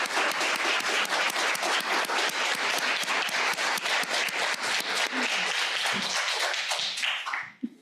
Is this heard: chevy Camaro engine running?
no